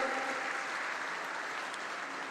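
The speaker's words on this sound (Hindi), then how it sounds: "जोर से ताली बजाओ नारायण राणे के लिए।" A political rally crowd in Ratnagiri claps steadily for Narayan Rane, a dense, even wash of applause that holds at full strength for a couple of seconds with no voice over it.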